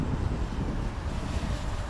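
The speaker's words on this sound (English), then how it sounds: "the wind is gusting up to about 15 mph" Wind gusting to about 15 mph buffets the microphone outdoors while a small 3-inch freestyle FPV drone is flown, a steady low rumbling roar with no voices.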